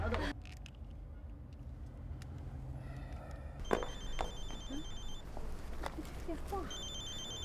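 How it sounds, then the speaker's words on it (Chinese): A telephone rings in an office setting in a Chinese business drama series, with repeated electronic trills starting partway through after muffled background activity. Someone speaks around the ringing. "电话。"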